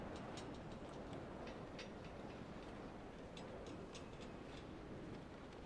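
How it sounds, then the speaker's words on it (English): Steady, faint rattling and clicking of a fence in the bleak setting of Dear Esther, a constant metallic tapping over a low windy rumble with no voices. "The fence is rattling."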